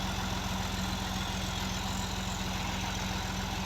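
A Fiat 480 tractor engine runs a water pump at a steady, close idle, with an even low throbbing pulse and constant mechanical hum throughout.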